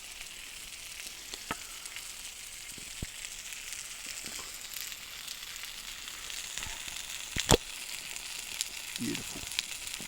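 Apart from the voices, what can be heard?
sausages and patties sizzling over a campfire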